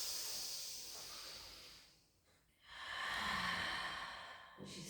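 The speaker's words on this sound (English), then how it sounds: "take a breath in." A slow, soft breath is drawn in during a Pilates stretch, hissing faintly, then breaks off briefly before a second airy inhale follows, quiet and close.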